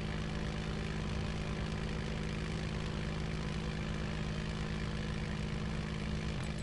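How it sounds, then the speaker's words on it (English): Airplane engine in the video game Just Cause 3 drones steadily and loudly as a broad, continuous roar with a low hum, unbroken and without talk. "I'm gonna try to crash the plane into this place."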